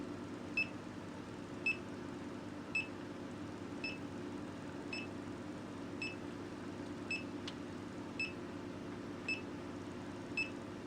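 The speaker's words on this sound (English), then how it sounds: "That little beeping sound's just his thermostat letting me know the door's open and it's cooled down a bit." A reptile enclosure thermostat beeps with its door open, giving short, faint, evenly spaced electronic chirps about once a second over a low background hum, with no other sounds.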